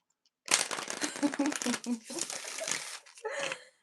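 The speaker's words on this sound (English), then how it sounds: "Me shuffling these cards, I'm low key like using it as a fan." A deck of playing cards is shuffled close up in a room, a rapid riffling flutter lasting about two and a half seconds, followed by a shorter burst of shuffling; no talk over it.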